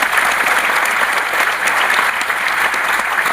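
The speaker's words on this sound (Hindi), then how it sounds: "एक बार ऊपर के वाले के लिए जोरदार तालियां" Loud, dense applause from a seminar audience fills the whole stretch, steady clapping without pause and no voices on top.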